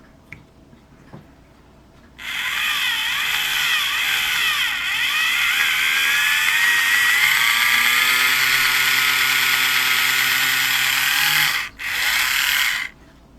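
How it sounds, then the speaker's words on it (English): A small power drill whines steadily for several seconds, pitch wavering as it bites into a metal pin on a model ship, stopping briefly before a short final burst. "I guess I have to drill it out"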